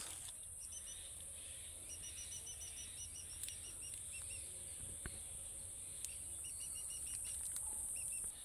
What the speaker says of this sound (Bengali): কিছু বন্য পাখির কান্না শোনা যাচ্ছে, কিচিরমিচির